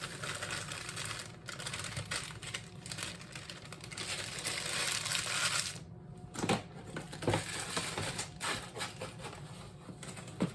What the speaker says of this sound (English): we're gonna empty our brownie mix into our mixing bowl